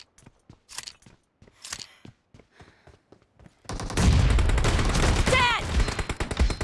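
Rapid gunfire erupts in a video game shootout, a dense burst of loud shots following a quieter stretch of sparse clicks and taps, close and continuous without speech.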